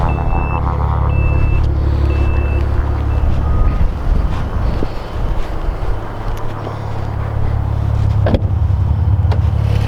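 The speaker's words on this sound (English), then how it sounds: "And there's that absolutely awesome twin turbo V6. Sounds amazing, provides effortless thrust" A 2022 Maserati Levante Modena with a 430-horsepower twin-turbo V6 runs loudly and steadily, with a deep continuous drone, a few warning beeps near the start and one sharp click later.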